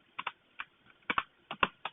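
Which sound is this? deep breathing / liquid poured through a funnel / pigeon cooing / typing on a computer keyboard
typing on a computer keyboard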